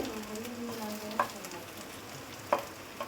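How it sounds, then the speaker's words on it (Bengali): Jute leaf pakoras deep frying in hot oil make a steady crackling sizzle, broken by two or three sharp clinks of a utensil turning them in the pan. "আমি এগুলিকে মুচমুচো করে ভেজে নিচ্ছি।"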